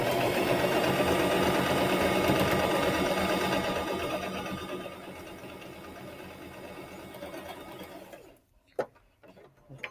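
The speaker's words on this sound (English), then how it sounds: "Back stitch." A sewing machine stitches through quilt fabric triangles with a steady close whir for about four seconds, then slows and tapers off. A few faint clicks and handling sounds follow.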